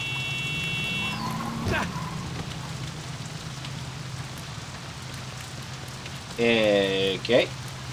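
Rain falls in the video game Saints Row 2 as a steady, even hiss, joined by thin electronic tones near the start and a brief burst of voice near the end.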